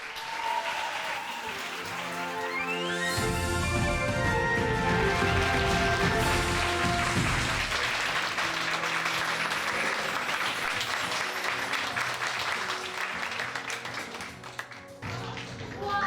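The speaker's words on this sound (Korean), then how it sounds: "큰 박수로 맞이해 주세요" An audience at a lecture hall talk in Jinju welcomes a speaker with loud, sustained applause lasting many seconds, joined by a rising musical sting at first and tapering toward the end.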